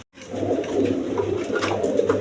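A pair of red Raj Golla pigeons coo continuously close by, a soft low repeated rolling murmur after a brief silent start, with no voices.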